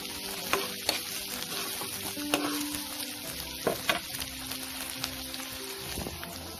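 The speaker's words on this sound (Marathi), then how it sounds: "टोमॅटो आणि कांद्याला चांगलं परतून घ्यायचं आहे." Chopped onion and tomato fry in a pan with a low steady sizzle, broken by several sharp clinks and scrapes of a spoon stirring against the metal, close by with no talking.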